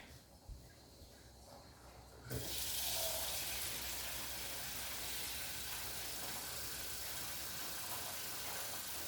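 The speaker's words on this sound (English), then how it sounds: "adding some water to my pots" Tap water runs into a cooking pot of chicken, beef and fish pepper soup, starting abruptly after a quiet moment and continuing as a steady, fairly soft rushing hiss.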